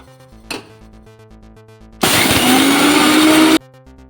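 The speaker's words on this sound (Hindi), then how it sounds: "उसके बाद हम इसको मिक्सर में ग्राइंड कर लेंगे।" A mixer grinder grinding roasted spices whirs loudly for about a second and a half, its motor pitch rising, over soft background music.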